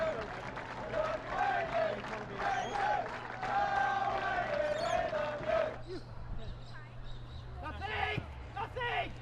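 Football-match crowd applauding and cheering in a sustained minute of clapping, steady and broad throughout, with a commentator talking over it.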